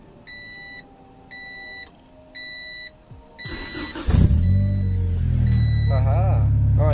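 A car sounds four evenly spaced warning chimes with the key on, then the starter cranks briefly and the engine catches, settling into a loud steady idle.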